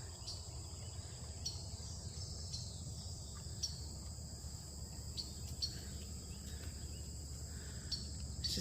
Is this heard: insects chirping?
yes